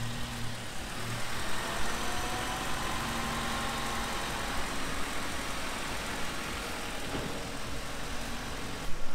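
A pickup truck engine idles steadily nearby, a continuous low rumble with no voices over it.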